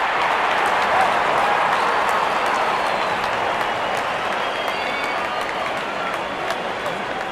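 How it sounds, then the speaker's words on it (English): Continuous applause and crowd noise fill a cricket stadium in the video game Real Cricket 24, a dense, steady clapping roar at moderate volume that eases slightly toward the end. "There's such a wonderful crowd in to watch their favorite players."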